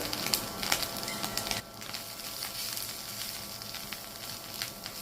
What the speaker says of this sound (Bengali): এখন সবজিগুলো বাটারে ভেজে নিচ্ছি